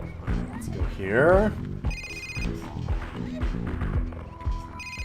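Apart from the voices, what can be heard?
phone ringing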